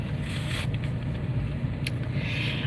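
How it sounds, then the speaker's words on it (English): A loud truck passes close by outdoors, its engine noise a steady, heavy broadband roar with a few brief hissing surges and no speech over it. "Oops, that's a loud truck."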